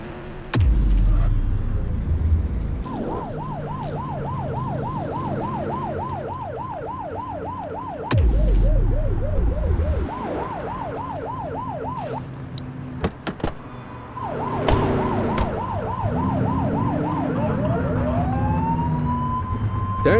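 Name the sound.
police car siren in video game The Precinct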